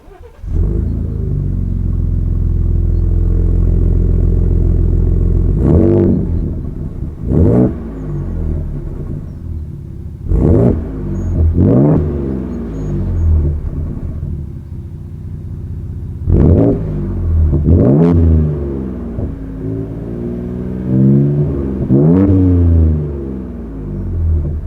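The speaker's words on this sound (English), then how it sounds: "We've got a couple of different exhaust note settings, so I'll jump in, leave a microphone here," A Ford Ranger Raptor pickup's 3.0-litre twin-turbo V6 idles with a deep rumble, then blips its exhaust in a series of sharp, loud revs that rise and fall, recorded close to the tailpipe with no talking.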